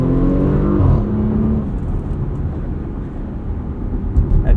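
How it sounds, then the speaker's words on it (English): A 2022 Porsche Macan S V6 engine growls and roars steadily as it accelerates in sport mode, loud and close, with a throaty rumble and rushing road noise and no talking. "That V6 makes a pretty good noise too."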